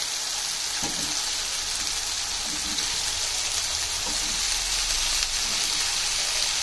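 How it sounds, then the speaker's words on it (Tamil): Broccoli added to a pan of ginger garlic paste fries with a steady, close hiss and sizzle, broken by a few soft stirring knocks and with no talk over it. "இஞ்சி பூண்டு பேஸ்ட்டு வதங்கிடுச்சு. இப்போ நம்ம ப்ரொக்கோலி சேர்த்துடலாம்."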